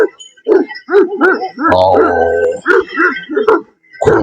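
Several Turkish Güdük dogs bark in quick, repeated bursts close by, with a growling snarl in the middle of the exchange.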